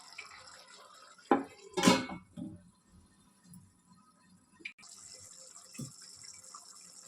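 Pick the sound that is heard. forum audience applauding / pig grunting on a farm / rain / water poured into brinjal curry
water poured into brinjal curry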